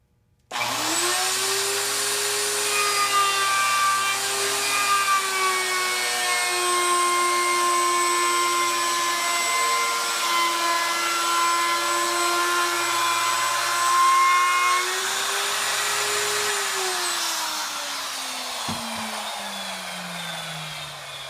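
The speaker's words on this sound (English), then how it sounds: "It is only necessary to have a second router if you are doing more than 1 piece." Router cutting the edge of hardwood against a plywood template, a high steady motor whine held for about seventeen seconds that then spins down, close and loud with no talk.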